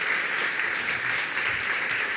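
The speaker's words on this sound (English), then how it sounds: "ask you to give a round of applause to our two panellists, Rod Tiffin, Paul Barry." Steady, dense round of audience applause for panellists after a panel discussion on Murdoch and the news in Sydney, sustained at an even level throughout with no voices on top.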